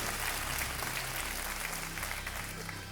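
A studio audience at a TV quiz show applauds, a dense, steady burst of clapping that fades slightly at the end.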